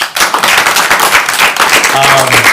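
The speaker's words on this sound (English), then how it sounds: "Round of applause for her." People at a building-codes policy event give a round of applause, loud close clapping that starts abruptly and carries on steadily, with a brief voice near the end.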